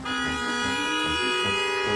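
A vehicle horn honks in one long, steady, loud blare that holds unbroken for about two seconds, close and alone.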